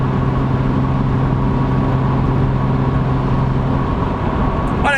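A BMW Z4 with its exhaust backbox deleted drones steadily under light throttle while climbing uphill, a loud, constant low hum inside the cabin that holds without a break.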